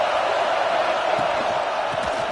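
A stadium crowd in a college football video game, a dense, steady roar of cheering that holds level throughout without breaks.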